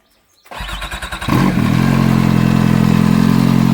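A Kawasaki H2 motorcycle fitted with an RPM Big Mouth cat delete exhaust with its E-valve closed cranks over with a rapid rhythmic churn, then catches and settles into a loud, steady, close idle with no talking.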